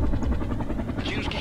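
A helicopter in a military combat video game makes a loud, steady, close rotor thrum with a dense low rumble and a faint pulsing beat, and a brighter whine rises near the end.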